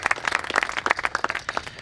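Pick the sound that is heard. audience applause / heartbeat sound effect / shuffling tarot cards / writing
audience applause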